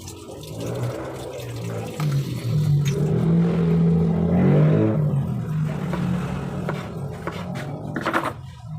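Fish for paksiw are washed under running water, a continuous splashing wash with handling noise and a low hum throughout.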